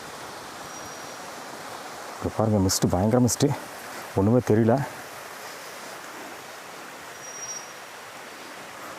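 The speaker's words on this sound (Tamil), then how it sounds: "ஓ இங்கே தண்ணி போகுது இதோட சவுண்டு தான் நம்மளுக்கு கேட்டுச்சு" Water flowing in a stream through a misty forest in elephant country makes a steady broadband rush throughout, with someone talking over it in the middle.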